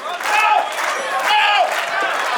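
A wrestling crowd chants and cheers for Kyle Matthews in rhythmic rising waves of shouting, loud and close, filling the arena.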